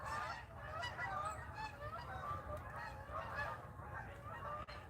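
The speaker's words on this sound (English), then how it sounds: "So long, geese." A flock of geese honking repeatedly as they fly overhead, a continuous chorus of calls heard at moderate distance outdoors.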